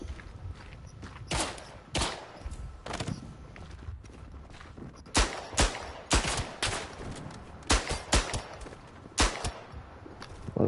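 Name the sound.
gunfire in the WW1 video game Verdun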